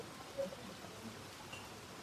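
Steady rain falls during the July monsoon, a soft continuous hiss of drops on surfaces heard alone at a low, even level with no one speaking.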